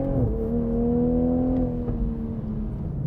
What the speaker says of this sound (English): Well, more full throttle acceleration.